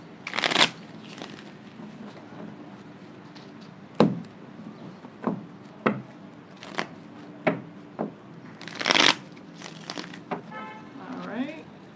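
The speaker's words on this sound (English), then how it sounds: "let me do a few shuffles" Tarot cards are shuffled in a few sharp riffling bursts, with lighter taps and card handling between them, close and clear against a quiet room.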